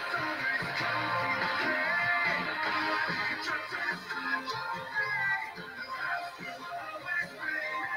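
An acoustic-sounding guitar plays the closing section of a song, strummed chords ringing out alone at moderate volume with slight dynamic swells and dips.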